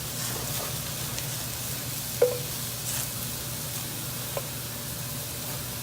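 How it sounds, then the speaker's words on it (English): Steaks brushed with a little melted butter sizzle on an outdoor grill, a soft continuous hiss with a couple of brief pops. "I like to put a little melted butter on the steaks"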